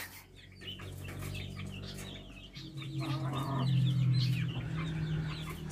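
Rhode Island Red chickens clucking nearby, with low throaty calls rising and overlapping among softer farmyard bird chatter.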